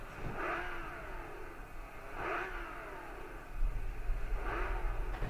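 A car engine in the video game Gran Turismo 5 revs up and down in three repeating surges over a steady drone, with the engine sound growing louder toward the end.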